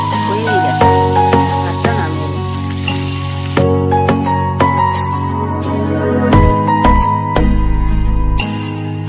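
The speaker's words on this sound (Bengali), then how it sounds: "এই যে মাছটা ভাজতে দিয়ে দিয়েছি মাছটা ভাজা হোক" Fish frying in a pan: a loud, continuous close sizzle and crackle with occasional metallic clinks of a utensil, and no talking.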